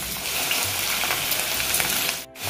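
Okra (bhindi) frying in hot oil in a pan for dhaba-style masala bhindi, a dense, steady sizzle with loud close crackle throughout and a brief dip near the end as it is stirred, with no talking.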